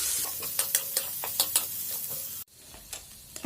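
Curry leaves, green chillies, ginger, garlic and cauliflower sautéing in a pan for cauliflower paratha, a soft steady sizzle broken by several sharp scraping stirs, then a sudden quieter stretch with a few more stirs.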